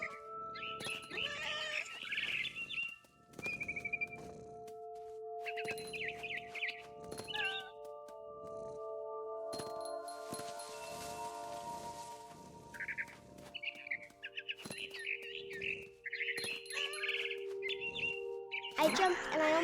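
A frightened bird in the video game What Remains of Edith Finch chirps in scattered quick bursts, interleaved with game music and rustling movement, with a voice speaking at times.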